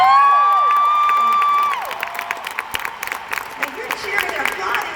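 A concert audience breaks into cheering and applause, a crowd of claps and scattered whoops rising after a sustained tone fades out, fairly loud and close throughout.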